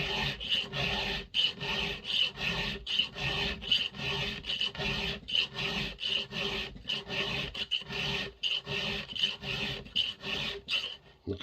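A hand file sharpens a chainsaw chain for cutting firewood, rasping in quick, regular strokes, a dozen or more in an even rhythm with short pauses between, close up and with no talk.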